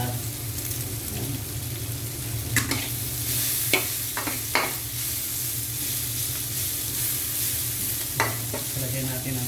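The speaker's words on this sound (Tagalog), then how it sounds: "Pakita ko lang yung paggisa sa mga bata." Lemongrass sautéing in a hot pan for chicken tinola, a steady close sizzle with a few sharp scrapes and clinks of a utensil stirring against the pan.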